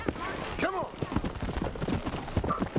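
Horse hooves clip-clopping at a steady trot in the Western video game Red Dead Redemption, a close rhythmic patter running under someone talking.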